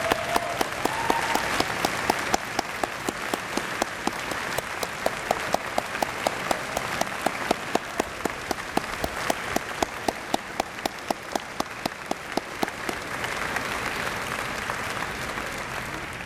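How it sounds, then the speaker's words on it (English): Graduates at a university convocation ceremony applaud their families, a long, even wash of clapping from a large indoor crowd with sharper individual claps standing out near the front. "so our graduates can applaud you for your support of them through these years"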